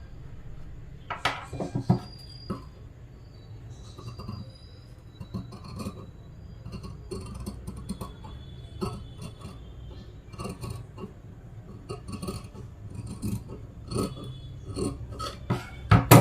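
Scissors snipping through blouse fabric while cutting a notch and armhole curve for a 38-inch blouse, producing a steady series of small, close crisp snips and rustles with no talk.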